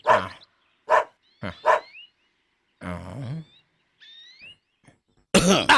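A dog barks in several loud, separate bursts close by, with pauses between them and a final harsh burst at the end, heard alone without talk.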